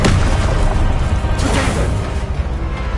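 A loud, dense fire blast from the Confringo spell in a Harry Potter wizarding video game, a roaring burst with whooshing crackle that thins out slowly over a few seconds.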